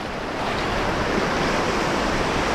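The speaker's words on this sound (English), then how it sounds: "Now, I can see through before the big waves come in." Ocean surf washing onto a sandy beach, a steady loud broadband roar of breaking waves and foam with no pause, close to the shore and with no voices over it.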